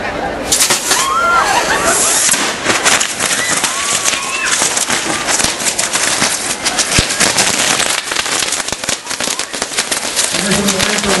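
Fireworks go off after a fuse is lit at an outdoor patriotic ceremony in Coalcomán, with dense crackling and popping bursts filling the clip amid crowd noise and faint bird-like whistles.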